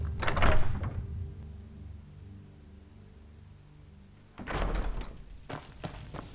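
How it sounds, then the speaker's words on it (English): A door opens in the video game Skyrim, a few thumps and knocks at the start, then a quieter ambient stretch with a low steady hum, followed by more knocking movement sounds near the end. "Okay, go out this door."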